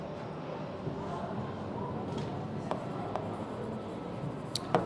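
Marker or chalk scratching across a classroom board during a university lecture, faint strokes and taps against quiet room noise, with a few sharper marks near the end.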